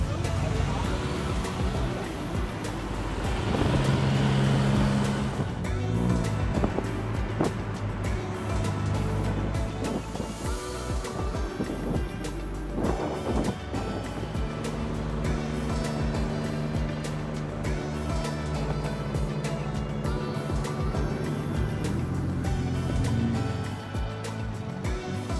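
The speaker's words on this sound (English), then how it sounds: "We're heading back on the tuk-tuk." Tuk-tuk ride through Bangkok streets near Silom, a continuous loud engine drone and road rumble with passing traffic and wind that shifts in pitch as the vehicle speeds up and slows, with no talking.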